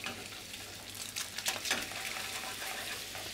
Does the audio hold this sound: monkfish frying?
yes